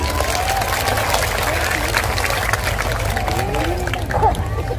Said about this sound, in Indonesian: Tepuk tangan untuk BSI.